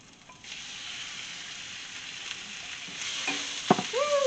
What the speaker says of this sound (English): Hear that sizzle, sizzle, sizzle, sizzle.